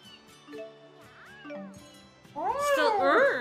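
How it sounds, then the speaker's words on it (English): Cat meowing in the video game Tales of Xillia 2, a few short meows rising to a louder wavering yowl near the end, mixed with game sounds. "A meow"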